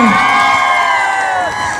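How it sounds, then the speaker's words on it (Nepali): A large crowd at a concert during the Butwal festival in Nepal cheers and shouts loudly, with whoops rising over the din, a brief burst that holds steady before easing slightly at the end. "एकपल्ट फेरि आफ्नो लागि जोरदार ताली बजाउनलाई सबैजनाले"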